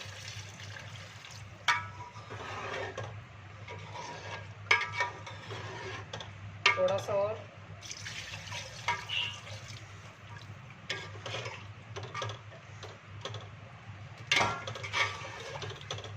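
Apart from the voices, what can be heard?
water being poured into a pot of beef trotters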